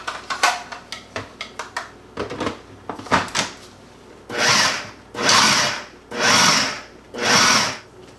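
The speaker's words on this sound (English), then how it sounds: "we're just going to go ahead and add the spinach and the bacon and just pulse to combine" A kitchen appliance pulses spinach and bacon together, four loud whirring bursts of about a second each separated by short pauses, preceded by a series of sharp clicks and knocks from handling the machine.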